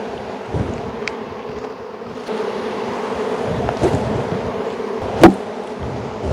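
Honey bees from a colony trying to swarm buzz in a dense, continuous hum as frames are shaken out, with a few sharper close passes and a brief thump of handling, no speech.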